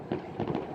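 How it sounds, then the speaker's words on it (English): New Year's Eve fireworks over a Russian town seen from a balcony, several faint distant pops and bursts in quick succession, the last one louder and closer. "fireworks. It's just unbelievable."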